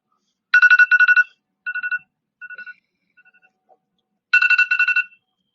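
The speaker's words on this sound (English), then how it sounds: "That's my alarm to go pick up the kids." A phone alarm ringtone plays in short bursts of rapid trilling chirps, loud at first, then growing fainter and sparser before a final loud burst returns; no one speaks over it.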